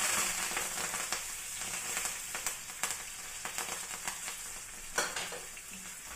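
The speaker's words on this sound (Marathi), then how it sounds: "तर मोहरी आपली, तर आपण याच्यावर कढीपत्ता टाकूया." Curry leaves with mustard seeds crackle and sizzle steadily in hot oil, with sharp pops scattered throughout and one louder burst near the end, close and alone.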